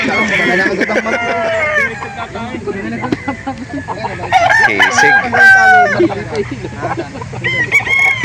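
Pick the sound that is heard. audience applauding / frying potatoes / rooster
rooster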